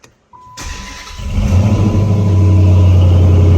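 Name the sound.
car engine starting with exhaust rumble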